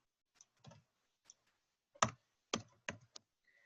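Keys tapped on a computer keyboard while writing code, a few scattered clicks and short bursts of typing separated by pauses, close and fairly quiet.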